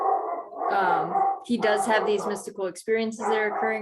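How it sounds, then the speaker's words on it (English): A dog barks and howls in short repeated bursts at moderate distance, mixed under a man's continuous speech throughout. "That's my dog."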